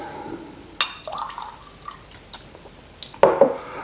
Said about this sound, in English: We try a little bit of water in it.